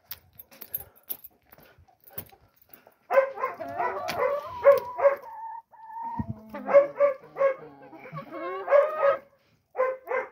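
Chickens cluck in bursts, nearby, with some faint rustling before and brief pauses between the runs of clucks.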